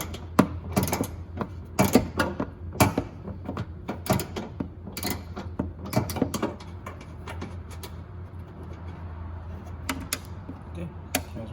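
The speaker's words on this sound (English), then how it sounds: "So what we're going to use is a 10 millimeter socket and an extension and our ratchet." A ratchet with a 10 mm socket and extension clicks in short close bursts while it removes bolts from the front bumper of a 2008-2014 Dodge Challenger, then quieter rattling follows.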